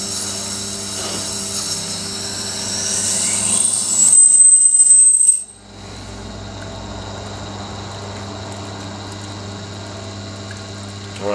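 A Tormek T7 wet sharpener with its wheel on 1000 grit grinds the blade of a Buck folding knife. A steady, close whirring wash holds throughout, with one brief dip partway through and no talking.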